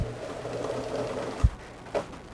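A sewing machine runs steadily, stitching a quarter-inch seam on a beginner's quilt, a continuous close hum with a couple of brief knocks near the end.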